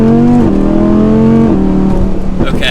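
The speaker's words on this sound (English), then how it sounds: "Right off the bat, this thing is loud. Yeah, it's got a nice exhaust on it." A Lamborghini Huracan V10 with an aftermarket exhaust revs loudly up close, its engine note rising and dipping in several sustained pulls, with a brief voice near the end.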